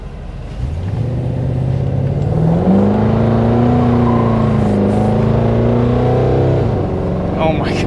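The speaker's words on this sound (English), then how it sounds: "See if I can spin the tires off this corner from a dead stop." Large SUV revving from a dead stop with its tires spinning, a loud sustained engine roar climbing in pitch and holding for several seconds before easing off.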